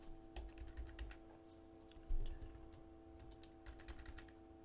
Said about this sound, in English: So we're going to type in turbulence.